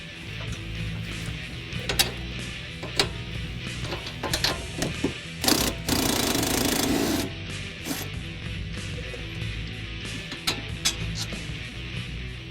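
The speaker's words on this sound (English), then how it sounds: "Put a wrench on the back and remove this nut" A wrench removes the nut from a strut's sway bar end link on a 2005-2010 Mustang, with close, irregular ratcheting clicks and metallic clanks and a brief loud burst of noise partway through.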